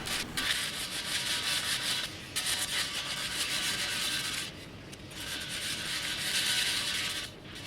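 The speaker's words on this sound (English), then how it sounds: "Just get some 180 grit sandpaper on a block and you're basically fine machining those wheels and getting that gutter rash out." A wheel's curb-rashed rim edge is sanded by hand with 180-grit sandpaper on a block: steady, close, harsh rubbing strokes in long continuous runs, broken by two brief pauses, with no speech.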